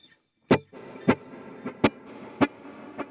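Clean electric guitar in a modern worship tone is plucked in six sharp notes, each trailed by a long shimmering reverb wash that fills the gaps, moderately quiet and alone.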